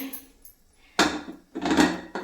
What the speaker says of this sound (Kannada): ಸೊ ಕುಕ್ಕರ್ ಕ್ಯಪ್ನ್ ಕ್ಲೋಸ್ ಮಾಡಬೇಕಾಗುತ್ತೆ